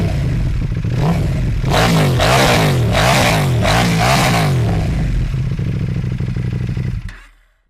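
A warm 2023 KTM 790 Duke parallel-twin motorcycle engine revved up several times in quick succession over a rough idle, loud and close, then cut off abruptly at the end.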